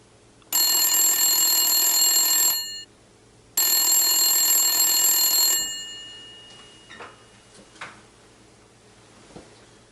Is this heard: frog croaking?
no